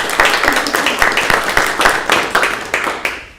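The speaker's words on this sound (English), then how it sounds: "So I wonder if we could just do a round of applause to thank Austin for his work." Crowd applause at a city council meeting, many hands clapping steadily and fairly loud, with a dense rhythmic patter that tapers off at the end.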